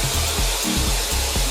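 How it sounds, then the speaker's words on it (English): Sharper Image Revel 6-in-1 multistyler running as a regular hair dryer, a steady close rushing airflow hiss with a low pulsing hum underneath, fairly loud and continuous. "make it into a regular dryer"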